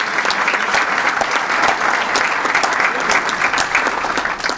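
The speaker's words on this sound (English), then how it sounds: "How about a round of applause for all of these folks?" Steady, loud applause from an audience at a police awards luncheon, dense clapping that holds at an even level throughout with no voices over it.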